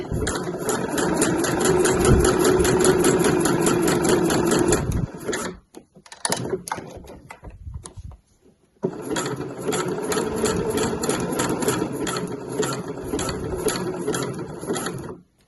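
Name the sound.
sewing machine zigzag stitching down a bag base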